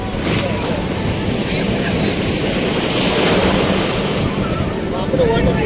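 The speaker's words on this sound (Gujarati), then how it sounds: "મોજા ઉડી ઉડીને મોઢા ઉપર લાગે છે" Sea waves surge and splash against the shore close by, a loud continuous roar mixed with buffeting wind noise on the microphone and no break in the wash.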